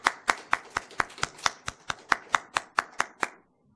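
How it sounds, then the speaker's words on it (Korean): Church congregation clapping in welcome during a service, sharp claps in a steady rhythm of about four per second, close and loud, then abruptly stopping. "우리 찬양 부르실 때 우리 환영의 박수로"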